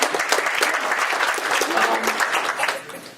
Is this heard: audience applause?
yes